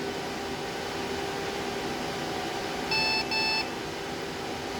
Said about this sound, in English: Two beeps again.